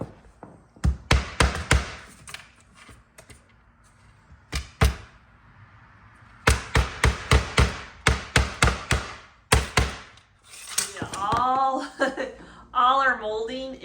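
Decor hooks hammered into a wall at home: bursts of sharp, rapid hammer taps in quick clusters with short pauses between, close and loud, followed by someone speaking at the end.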